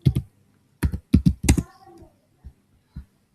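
Computer keyboard keys clatter in several quick clustered bursts with short pauses between them, close and fairly loud, while someone types JavaScript code with no talking.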